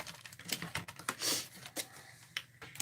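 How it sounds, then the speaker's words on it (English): Scissors cut a piece from Gorgeous Grape and Highland Heather colored paper, close and quiet, with a run of small crisp snips and rustles. "So then we cut that piece out."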